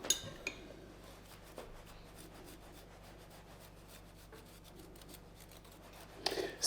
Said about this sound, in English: And then you can go ahead and grate some cheese